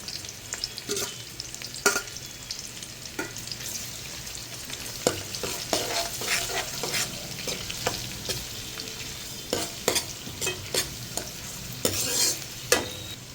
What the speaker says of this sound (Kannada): ಇವಾಗ ಈರುಳ್ಳಿ ಮತ್ತು ಬೆಳ್ಳುಳ್ಳಿ ಕಟ್ ಮಾಡಿ ಇಟ್ಕೊಂಡಿಲ್ಲ ಅದನ್ನು ಹಾಕ್ಕೊಳ್ಳೋಣ. ಹಾಕ್ಕೊಂಡು ಸ್ವಲ್ಪ ಫ್ರೈ ಮಾಡ್ಕೊಳ್ಳೋಣ.